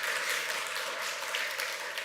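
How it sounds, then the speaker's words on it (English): A conference audience at NixCon claps, the applause steady and fairly soft, filling a short stretch with no speech over it. "we can do applause"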